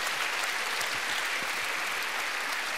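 Steady audience applause at a live public dialogue on Europe, a dense, even wash of many hands clapping throughout with no pauses and no voices.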